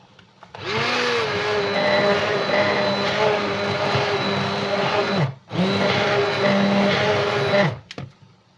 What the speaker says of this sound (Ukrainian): пробиваю блендером до однорідної маси